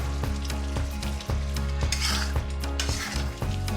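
Masala and curd stirred and fried in oil, a bright steady sizzle under rhythmic clanks and scrapes of a metal spoon against the pan, repeating about every half second, with no talk.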